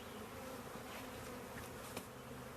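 A dense, steady buzzing of many honeybees in a hive, close and continuous, with no voices over it.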